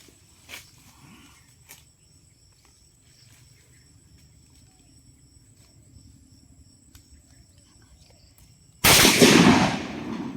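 A rifle shot cracks once, loud and sharp, and its echo rolls away, fired at a glass target during a hunting outing; before it comes a long stretch of quiet outdoor ambience with crickets chirping.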